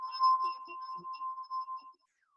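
A drinking glass rings with a steady, clear tone during a sound demonstration, the pure note sustained for about two seconds with faint soft knocks beneath it, then stopping abruptly into silence.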